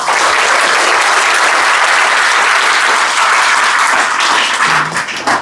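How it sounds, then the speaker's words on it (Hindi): A school crowd applauds a Class 10 CBSE exam topper with loud, steady clapping that fills the space throughout and tapers slightly at the end. "ताली बजा दो भाई"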